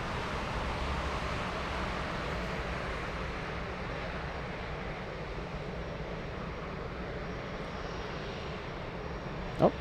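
Air Dolomiti airliner bound for Pisa taking off at Frankfurt airport: a steady, far-off jet engine roar that fills the whole stretch evenly, with a short sharp click right at the end.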